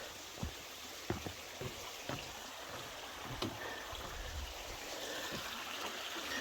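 A river runs beside a riverside camping area on a Virginia trail, a soft continuous wash of flowing water with a few sharp knocks and taps in the foreground.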